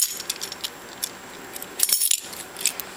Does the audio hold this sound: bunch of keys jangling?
yes